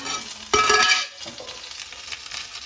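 Chicken leg pieces frying on a slow flame give a low, gentle sizzle, with a brief louder burst of stirring and spluttering partway through before settling back to a soft crackle; no one speaks.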